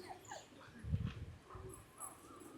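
A Great Dane gives a few soft, close whimpers and faint yips, quiet and intermittent against a low background.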